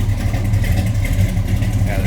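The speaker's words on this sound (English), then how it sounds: "always something about the rumble of a big block" A 1971 Chevrolet C10 pickup's big-block V8 runs steadily at idle, producing a deep, close, continuous rumble with a low throbbing pulse. Someone talks over the engine.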